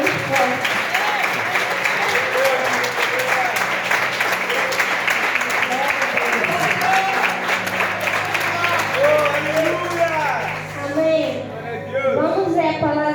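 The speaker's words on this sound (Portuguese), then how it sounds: "Aplaude Jesus porque é muito forte" A congregation claps steadily throughout a church service while voices and tonal singing or calls rise over the applause, growing more prominent toward the end as the clapping thins.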